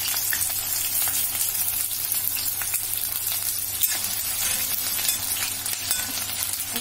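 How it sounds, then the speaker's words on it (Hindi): Onion and green chili hit hot oil in a kadai and fry with a dense, even sizzle up close, broken by faint stirring clicks and no talk. "अब मैं प्याज और मिर्चा को डालूंगी"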